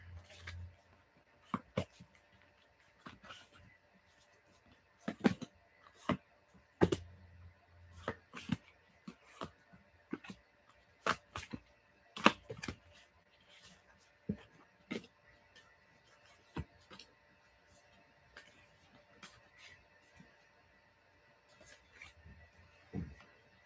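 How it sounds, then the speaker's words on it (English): Sharp, irregular riffling and slapping of cards being shuffled close by, in quick bursts with short pauses between, over a quiet room. "let me just shuffle here"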